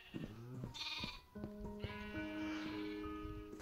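Sheep bleating in Minecraft (FTB Ultimate modpack): several wavering, harmonic bleats follow one another closely and loudly, the last drawn out and overlapping another, with no talk over them.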